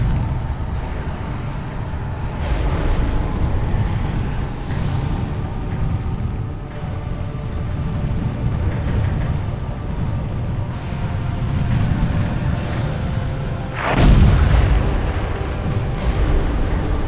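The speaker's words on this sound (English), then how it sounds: "Pretty fireworks." Fireworks going off in the video game Legacy of Kain: Soul Reaver 2, a steady rumbling roar broken by repeated muffled booms, with one sharp loud burst near the end.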